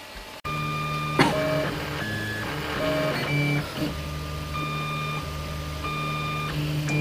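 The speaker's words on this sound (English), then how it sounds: "So here you can see it printing something that I quickly made." An Anet A8 3D printer runs a test print, its stepper motors whining in shifting tones and pitches as the head moves, steady and close with brief clicks and no talking.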